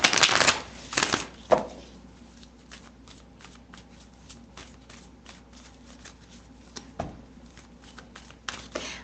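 Playing cards being shuffled at close range, a dense riffling burst at the start giving way to scattered soft card taps and flicks.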